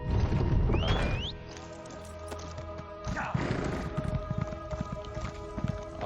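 Horse hooves clip-clopping in Elder Scrolls Online, steady rhythmic footfalls over ambient game music and effects, with a swooping tone early on and moderate loudness throughout.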